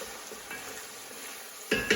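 Sliced garlic dropped into a pot of hot oil for chili, a soft low sizzle that jumps into two sharp bursts of frying and clatter near the end.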